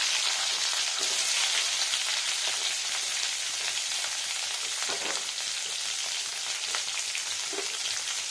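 Chopped mango and tomato fry in a pan with a soft, steady sizzling hiss, punctuated now and then by faint stirring clicks.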